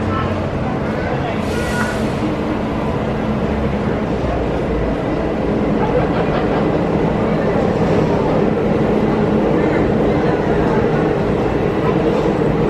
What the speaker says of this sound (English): Here we are, the Epcot Monorail.